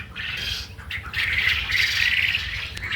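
Japanese quail on a farm call in a busy, overlapping chorus of chirps and squawks, moderately close and continuous for a few seconds with no voices.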